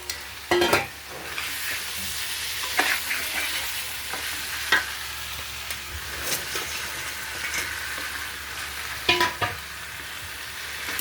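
Fish frying in a pan, a steady broadband sizzle with scattered sharper spits and pops, fairly close and moderate in level, with no voices.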